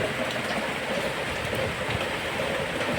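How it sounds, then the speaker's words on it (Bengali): Heavy rain pours down steadily, a dense, constant hiss of drops hitting surfaces with no pauses. "এত বৃষ্টি হচ্ছে মুষলধারে।"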